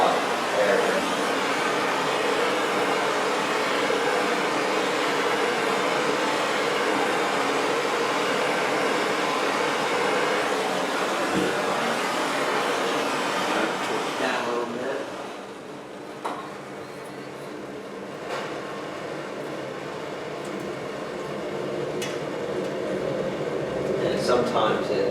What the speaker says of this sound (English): I'm going to heat the bottom, light the kerosene, then set the torch back underneath it to maintain the red hot air